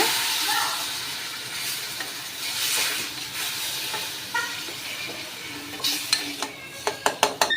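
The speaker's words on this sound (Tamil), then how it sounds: "இப்போ நம்ம வறுத்து வச்சோம்ல புளியோதரை மசால் இது சேர்த்துக்கலாம் நல்லா மிக்ஸ் பண்ணி விட்டுருங்க" Roasted puliyodharai masala with tamarind paste being mixed in a hot pan: a continuous hissing sizzle with spoon scrapes, ending in a quick series of sharp taps against the pan.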